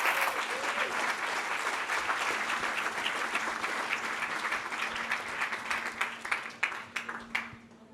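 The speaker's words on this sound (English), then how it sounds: "Round of applause for Ethan" Applause from a meetup audience for a speaker, a full room clapping steadily, then breaking into a few louder individual claps as it tapers off.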